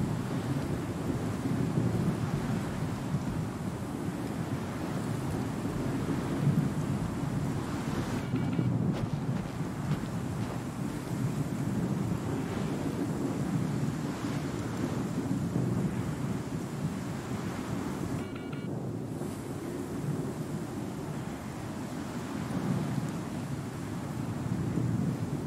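Steady, loud wind roars continuously in the Star Citizen video game as characters walk through a gusty outdoor area, a broad low rushing noise with no talk over it.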